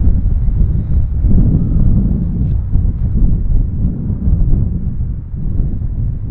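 Steady wind gusting across an open championship links golf course, a continuous low rumbling buffet on the microphone that holds for several seconds with no speech.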